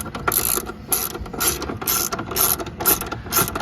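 A ratchet clicks in quick repeated bursts, about six strokes, close and fairly loud, while the bottom bolts on the rear shocks of a second-generation Mazda 6 are tightened down.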